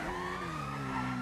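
A police siren wails during a chase in GTA 5 as a stolen Lamborghini is pursued, faint and steady, mixed with engine and road noise.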